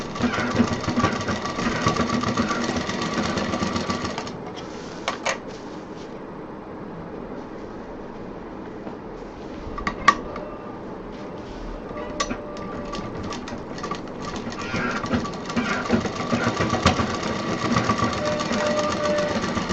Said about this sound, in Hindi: और सिलाई कर देंगे।